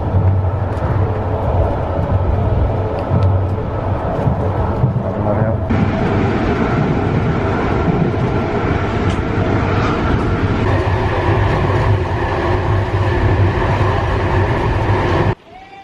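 A train pulling into Koprivštitsa station in the Bulgarian mountains gives a loud, continuous rail rumble. It shifts into a denser, brighter roar partway through and then cuts off abruptly at the end.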